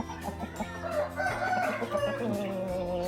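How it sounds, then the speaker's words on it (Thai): Bantam chickens on a farm: close, repeated clucking and crowing calls overlapping in a busy, loud flock chorus over about three seconds. "เดี๋ยวเราไปดูไก่แจ้กันครับ ไก่แจ้นี่ครับ"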